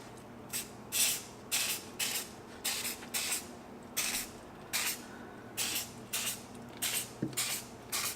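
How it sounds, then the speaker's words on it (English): Repeated short hissing spritzes from a spray bottle, about a dozen bursts in irregular succession, close and fairly crisp, with a faint low hum underneath. "I'm just gonna spray enough to soak it and let it sit for a few minutes"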